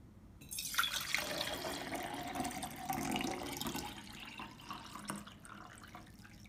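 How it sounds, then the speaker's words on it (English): Water is poured into a 20 ounce Sunwill tumbler with a lid, making a close, steady trickling splash that rises in pitch as the cup fills almost to the rim, ending in a few drips. "So that was about 17 ounces poured into a 20 ounce Sunwill tumbler."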